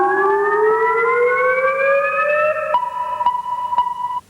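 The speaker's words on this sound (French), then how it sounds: "Le pulsar, le voici." A pulsar's radio signal turned into sound: a loud, steady rising electronic tone like a siren that then settles into a fixed pitch, with sharp regular clicks marking the pulses toward the end, no voices.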